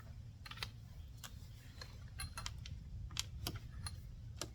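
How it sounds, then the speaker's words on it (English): Several sharp, light plastic clicks as a basketball hoop snaps onto the net of a Springfree O77 8 x 11 trampoline, scattered irregularly over a steady low outdoor rumble, fairly close. "drop your net to put your hoop on. Stand to the side, little bend, make a little click"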